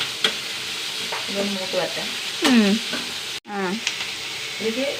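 Onions frying in a pan, with a steady sizzle broken by repeated scraping and stirring strokes, close and fairly loud, with no talk.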